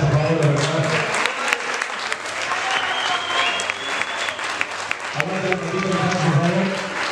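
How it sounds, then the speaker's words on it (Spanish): A crowd at a tribute event bursts into applause for a person named Patas, with sustained clapping mixed with voices and cheering, easing briefly midway before swelling again. "Un aplauso a Patas, por favor"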